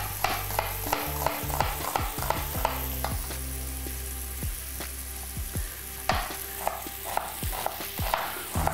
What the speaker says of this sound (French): Voilà, on va mettre tout ça à dorer. Vous entendez tout ça? Ça, c'est le son qui fait plaisir.